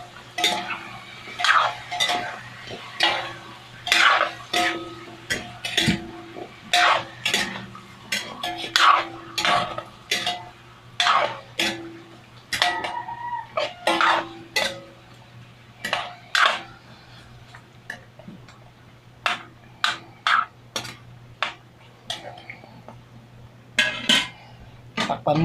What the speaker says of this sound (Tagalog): Tapos hahaluin.